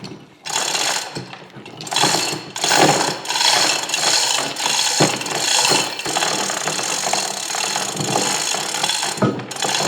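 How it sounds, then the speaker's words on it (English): A gantry hoist lifts a heavy Chattanooga No. 14 cane mill, giving repeated ratcheting clanks, metallic rattles and creaks in uneven bursts with short pauses, close and fairly loud, with no talking. "we're just going to lift it up now on the gantry"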